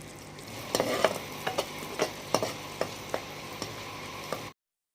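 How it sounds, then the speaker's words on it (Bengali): Mustard seeds, curry leaves and cashews frying in hot ghee for a watermelon pulao: a steady close sizzle broken by a series of sharp spoon scrapes and taps as the pan is stirred, ending abruptly. "সর্ষে কারি পাতা কাজু বাদামটা আমি ভালো করে ভেজে নিয়েছি"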